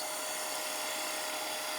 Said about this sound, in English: let's speed the lathe up to 2000 RPM